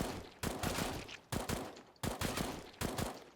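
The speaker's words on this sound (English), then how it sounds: "With the FAMAS, I just go in little bursts, because it's better to do bursts than it is tapping" A FAMAS rifle in CS:GO fires four evenly spaced short bursts of about three rapid shots each, loud and close, with no talking.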